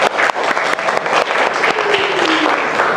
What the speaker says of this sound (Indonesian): Kita beri tepuk tangan untuk semuanya.